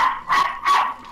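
A dog in the video game 7 Days to Die barks three times in quick succession, sharp and close.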